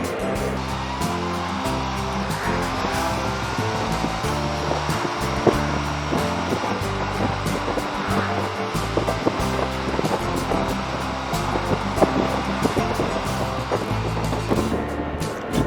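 A Can-Am Spyder three-wheel motorcycle being ridden, its engine droning steadily with a low rumble and wind rush throughout, close and continuous with no voices.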